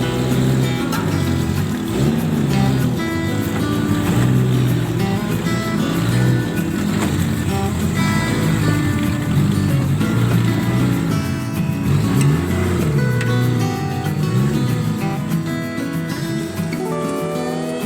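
An adventure jeep drives through an artificial river at OW Guci in Tegal, its loud, close engine droning continuously with surging revs for the whole stretch.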